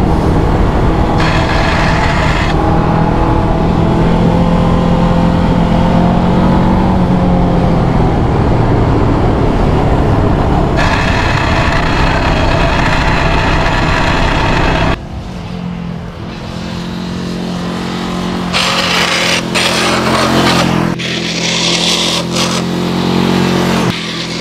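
An MBP M502N sport motorcycle is ridden at speed, with a loud, close engine drone that shifts pitch through gear changes over steady wind and road noise.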